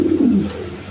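A chocolate-coloured Australian range pigeon gives a short, low coo, a single soft call lasting under a second, close by and alone.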